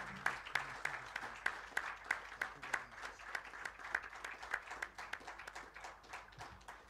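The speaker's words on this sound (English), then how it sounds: "as you continue to clap" A lecture audience claps in steady, fairly sparse applause, individual claps distinct and rhythmic, moderately close and fading slightly toward the end.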